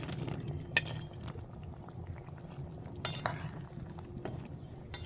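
Curry gravy at a boil, with egg fritters dropped in, bubbles softly and faintly, broken by a few sharp clinks of a utensil against the pot.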